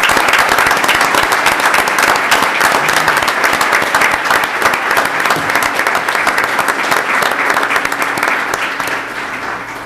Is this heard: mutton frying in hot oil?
no